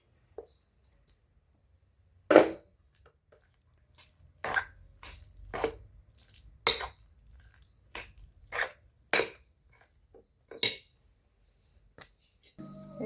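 Sandwich filling mixed with a little Cajun spice, heard as a string of separated clicks and soft clinks of a utensil against a bowl, spaced irregularly and fairly close.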